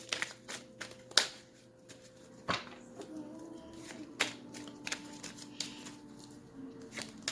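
A deck of tarot cards being shuffled close by, with soft riffling, sliding and tapping bursts spread across several seconds and no talk.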